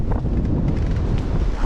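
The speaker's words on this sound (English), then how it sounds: "Salvation from this constant wind." Constant wind buffets the microphone on an exposed mountain trail, a steady, loud rushing roar that fills the whole clip with no other sounds or voices.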